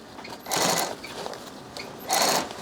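Sewing machine stitching a drop liner tote, taking it slowly on the turns: two short bursts of close stitching separated by a pause, with no talking.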